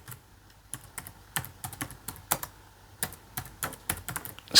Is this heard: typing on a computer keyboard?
yes